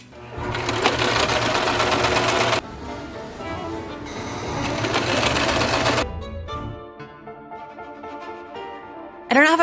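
Sewing machine stitching a long strip of white material, a loud steady mechanical whir running in two long bursts, then stopping; faint handling sounds and a brief rustle follow.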